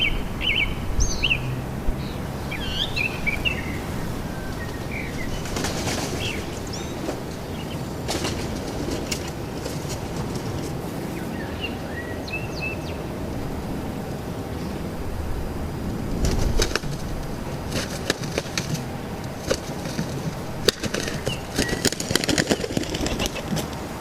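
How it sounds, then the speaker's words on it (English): Wood pigeons fighting, with scattered sharp wing thumps and flurries of flapping in bursts, mixed with chirping birdsong over a constant outdoor background rumble. "It's shocking to hear the loud thump of their wings when they hit each other."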